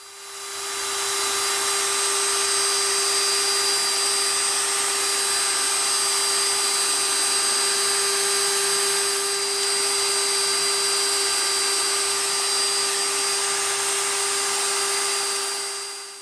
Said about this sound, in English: I'll use progressively finer sandpapers, and then finish the edge off with steel wool to polish it and give it a nice shine.